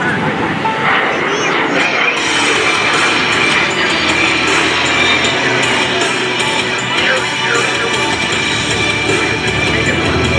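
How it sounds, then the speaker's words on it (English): A Warrior Flight Team aircraft trailing smoke rolls in front of the crowd at the 2016 NAS Patuxent River Air Expo, its loud, steady engine roar filling the clip alongside crowd noise, wind and a talking announcer. "He's going to perform a nice barrel roll right in front of the crowd here for you."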